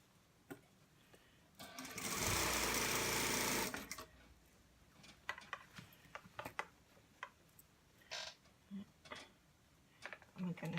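A sewing machine stitches along a fold line in fabric for a dress, a burst of fast whirring lasting about two seconds, followed by scattered faint clicks and handling sounds, with quiet talking nearby.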